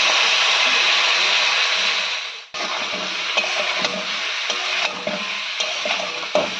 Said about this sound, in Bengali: আলুর সঙ্গে সমস্ত মশলাপাতি ভালো করে মিশিয়ে নিতে হবে।